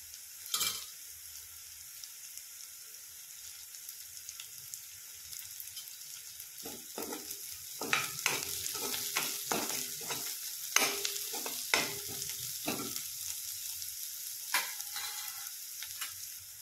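Chopped onion frying in a pan for Maharashtrian brinjal bharit gives a steady close sizzle, with spatula stirs and scrapes clustering in the second half; nobody speaks.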